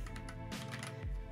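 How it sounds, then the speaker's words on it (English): Rapid clacky keystrokes from a Havit mechanical keyboard, steady and close, with a few heavier thocks from larger keys mixed in. "the actual keys that you're typing on most of the time actually sound really good"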